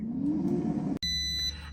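An air fryer's steady whirring hum, set to 360 Fahrenheit while cooking a whole tilapia, cuts off abruptly, followed by a clear, high electronic beep tone, with no talking.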